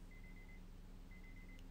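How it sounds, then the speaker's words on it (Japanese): A timer alarm gives two short, faint runs of rapid electronic beeps with a pause between them, under a steady background hum and hiss. No one speaks. "タイマーなってる"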